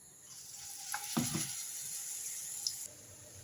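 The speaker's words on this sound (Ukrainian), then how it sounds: "А сюди відправляю смажитися наступну порцію." Oil sizzles and crackles steadily as zucchini fritters fry in a pan, with a few brief clatters near the start and no talking.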